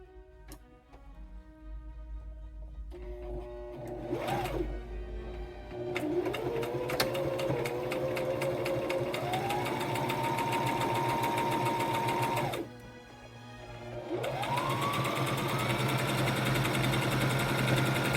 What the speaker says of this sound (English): we can go ahead and start quilting it